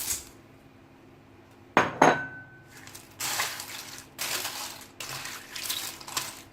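Pasta and chicken for a chicken fajita pasta dish are stirred together in a metal cooking pot, giving a run of scraping, clinking utensil knocks and pot rattles in irregular bursts, fairly close and moderately loud with no talking.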